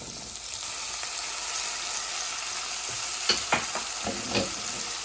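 Green beans sizzle loudly as they stir-fry in a hot pan while a utensil scrapes and stirs them in a few quick strokes near the end.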